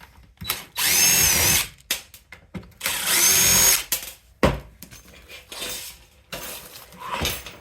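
A power tool removes Phillips screws from a damaged Honda EX350 engine found at a scrap yard. Two loud whirring bursts are separated by clanks and handling noises nearby.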